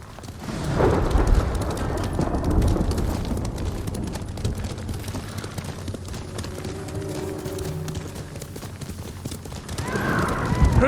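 A horse in the Ghost of Tsushima video game gallops with steady clip-clop hoofbeats and gives loud whinnies, first near the start and again at the end, with continuous low rumble underneath.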